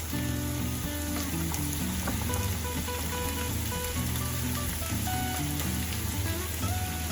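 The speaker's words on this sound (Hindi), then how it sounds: "अब हम इसमें डालेंगे 1 मीडियम साइज का चॉप किया हुआ प्याज" Chopped onion sizzling and frying in a pan, a steady dense crackle that stays even throughout with no talking.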